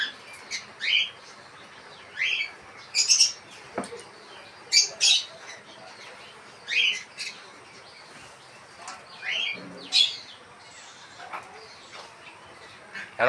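Pineapple conure parrots, double red-factor and hand-tame birds, give repeated sharp chirps and squawks in short bursts, moderately close, with quieter chatter and pauses between calls.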